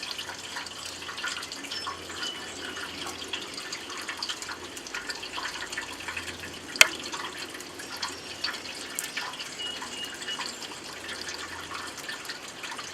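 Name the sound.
lifting lettuce and greens out of a bowl of water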